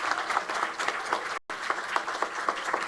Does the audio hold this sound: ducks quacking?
no